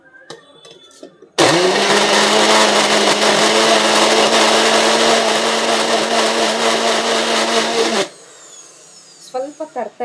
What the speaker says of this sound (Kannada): ಸ್ವಲ್ಪ ತರ್ತರಿಯಾಗೇ ಇರಬೇಕು, ಈ ರೀತಿ ಗ್ರೈಂಡ್ ಮಾಡ್ಕೋಬೇಕು.